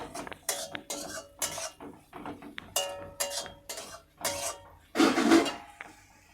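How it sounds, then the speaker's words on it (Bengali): A spatula stirs green chillies and torn stale roti in a metal pan, giving a string of close, rhythmic scraping and clattering strokes with brief pauses between them and no voices. "নেড়েচেড়ে ভালো করে রান্না করে নেব।"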